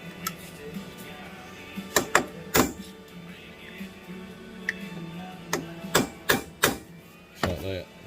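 Metal punch struck with a hammer to stake a nut on the shaft of a Honda 300 Fourtrax primary gear reduction, producing sharp, separate taps in small groups, close and fairly loud.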